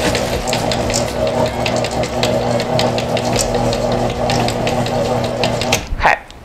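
Electric mixer on low speed folding chocolate chips into cookie dough, a steady motor whir with rhythmic clicking that cuts off near the end.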